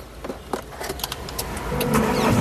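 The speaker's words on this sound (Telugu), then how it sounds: "సింగిల్ సెల్ఫ్లో కార్ స్టార్ట్ అవుతుంది" A 2018 Mahindra XUV500 W11 cranks and fires on a single turn of the key, clicks and starter whir giving way to a steady, building idle close by.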